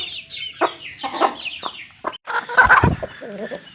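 An Aseel hen of the pure Mianwali strain clucks in repeated short bursts close by, near a freshly hatched chick in a clutch of seven or eight eggs.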